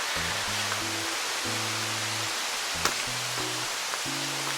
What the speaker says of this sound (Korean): 물의 양이요, 겨울에도 이 정도 흘러내린다고 합니다.